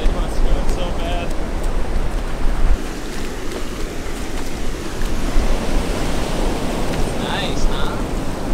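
Ocean surf on the far side of the dunes on the Outer Banks roars as a broad, continuous wash, mixed with wind buffeting the microphone and faint talk in the background.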